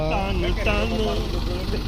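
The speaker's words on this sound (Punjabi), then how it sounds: "ਲੋ ਜੀ ਮੁੜ ਗਿਆ ਟਰੈਕਟਰ" A tractor engine runs with a steady low hum as the vehicle turns near a parking area, with people talking loudly over it throughout.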